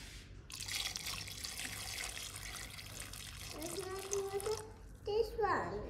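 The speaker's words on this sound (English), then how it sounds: "so let's pour in our water" Water pours from a tap into a 6 liter pot as a steady, bright rush, and the pitch rises as the pot fills. A voice and other talking break in near the end.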